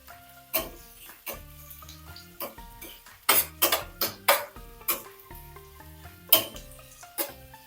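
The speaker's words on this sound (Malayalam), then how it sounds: "സവാള നീളത്തിലരിഞ്ഞതേ അതിട്ട് കൊടുക്കുക. ഇതൊന്ന് നല്ലതുപോലെ വഴറ്റിയെടുക്കണേ." Sliced onions are sautéed in a pan for potato rice, with irregular clanks and scrapes of a spoon against the pan and a faint sizzle underneath.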